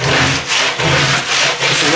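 A credit card scrapes wax off a surfboard in steady back-and-forth strokes, a rough rasping scratch repeating about four times, close up with no talking.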